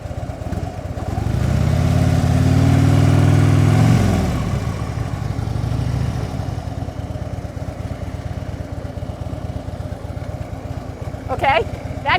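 Motorcycle rolling through a practice U-turn with the clutch pulled in, no throttle or brake: a steady mid-pitched engine idle that swells for a few seconds then settles, with someone talking over it.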